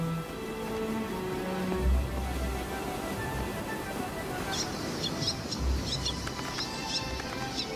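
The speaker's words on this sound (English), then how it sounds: "The air is alive with birds." Seabirds such as fairy terns and white-tailed tropicbirds call over the cliffs of Ascension Island: a busy chorus of chirps and shrill whistled cries over a steady wind-like background.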